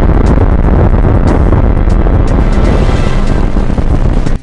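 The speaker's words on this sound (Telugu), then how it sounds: "అంతా అమర్చాక దూరం వచ్చి ఆ బాంబును పేల్చడంతో ఒక్కసారిగా చెవులు దద్దరిల్లే శబ్దంతో బద్దలైందా బండరాయి" Explosives blasting through hard rock in the Gotthard railway tunnel in Switzerland, a loud, sustained rumbling roar that fills the space without pause before cutting off abruptly near the end.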